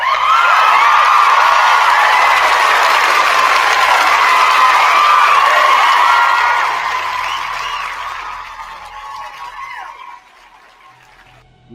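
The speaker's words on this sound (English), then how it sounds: "Round of applause for President Reagan" A large crowd cheers and applauds for President Reagan, a loud sustained roar of clapping and whoops that fades steadily toward the end.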